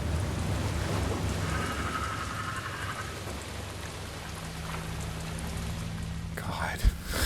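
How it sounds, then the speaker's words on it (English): Steady rain falls in the video game Alan Wake 2, a dense even hiss that stays constant for the whole stretch, with faint murmured sounds partway through and a brief thump near the end. "And it's raining."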